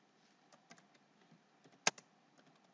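Quiet clicking of keys on a computer keyboard, irregular soft taps with one sharper, louder keystroke partway through, close and isolated with no talk.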